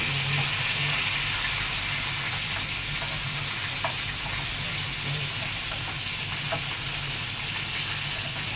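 Galunggong fish fries in a pan of oil with a loud, constant sizzle and hiss that fills the whole stretch, with faint scattered pops and clinks along the way.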